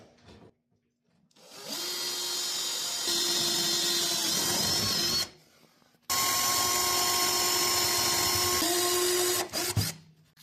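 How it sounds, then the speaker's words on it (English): A power drill boring a quarter-inch hole through the mount bracket of a marine beach ladder, two sustained close whining runs split by a short pause, each ending abruptly. "you can drill a 1/4 inch hole through the mount bracket"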